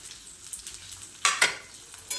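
Onion, peas and ginger-garlic paste sautéing in a pan, a soft continuous sizzle with two short louder scrapes of stirring near the middle and another at the end.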